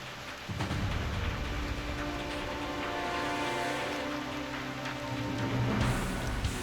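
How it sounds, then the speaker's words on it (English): Steady rain in the video game Reverse: 1999 hisses continuously at a moderate level, with a faint low rumble underneath. "It's raining."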